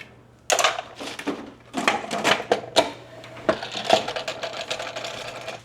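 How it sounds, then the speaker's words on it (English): A salad spinner spinning rinsed garden leaves again, close clattering plastic rattles in three surging bursts as the handle is pumped, with ratchety clicks between and no talk. "going to spin it again."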